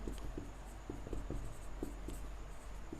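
Handwriting a physics definition on a surface, quiet irregular taps and scratches of the pen forming letters in quick bursts, close over a low steady background hum, no voices.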